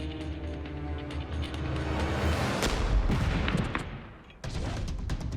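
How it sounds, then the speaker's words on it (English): Recoil-controlled cannon firing at a cinder block wall, a loud booming blast with rumbling noise and debris that dies away, then a second burst of noise near the end. "Our target is a cinder block wall. The next shot should hit very close to the previous round."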